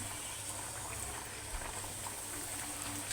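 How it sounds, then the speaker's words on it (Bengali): Puris deep-frying in a shallow layer of hot oil in a wok, giving a steady close bubbling hiss that carries on without a break and with no talk over it. "কড়াইয়ের মধ্যে গরম তেল দিয়েছি আর তেলের পরিমাণটা অত বেশি দিই নেই অল্প দিয়েছি যাতে এইগুলো সবগুলোই ওই তেলের মধ্যে একবারে ভাজা হয়ে যায়"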